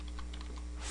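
Rapid clatter of computer keyboard keys as a command is typed at a Windows command prompt, a quick run of close, crisp keystrokes with no voice over them.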